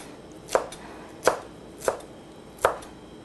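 A knife chops food into bite-sized pieces on a cutting board in a kitchen, four crisp, evenly spaced thunks at a slow, steady rhythm, close and clear with no talking.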